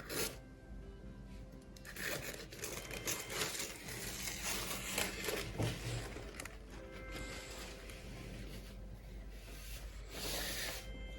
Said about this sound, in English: So this is the protective cover for the screen.